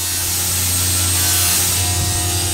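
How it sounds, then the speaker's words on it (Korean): Factory machinery cutting artificial marble slabs gives a loud, steady grinding whine with a constant low hum running throughout, filling the space without any voices. "원판을 재단하는 기계 소음이 공장 안에 가득하다."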